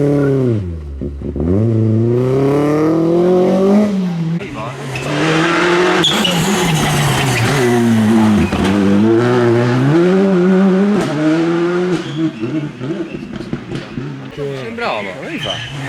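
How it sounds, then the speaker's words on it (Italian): Rally car on a stage at Rally Ciocchetto 2025, loud engine rising and falling as it arrives and skids, tyres scrubbing through the corner, with spectators talking close by over the noise. "Ora gli arriva una macchina."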